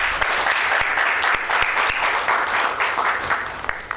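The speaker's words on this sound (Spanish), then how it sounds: "Démosle fuertes aplausos" Crowd applause at a book presentation, a steady clatter of many hands clapping at moderate volume for several seconds, slowly tapering at the end.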